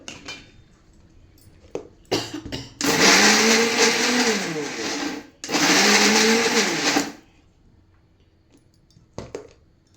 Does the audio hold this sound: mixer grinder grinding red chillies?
yes